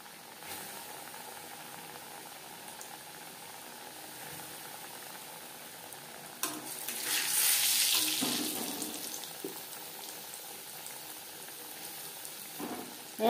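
Chicken pieces frying in plenty of hot refined oil over a medium flame, a soft continuous sizzle and bubbling that swells to a louder hiss midway, then settles, with a faint clatter at the end.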